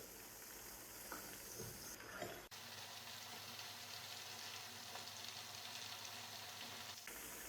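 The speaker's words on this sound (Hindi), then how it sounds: "तीन मिनट हम दूसरी तरफ से भी इसी तरह फ्राई कर लेंगे।" Chicken frying in a pan for karahi gravy, a faint steady sizzle with a soft clatter midway as the pieces are turned, quiet throughout.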